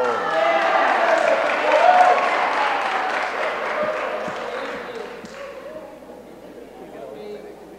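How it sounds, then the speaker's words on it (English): A room full of people at a council meeting applauds steadily for several seconds after a vote, the clapping gradually thinning out, with murmured voices underneath. "That applause wasn't for you, Marshall."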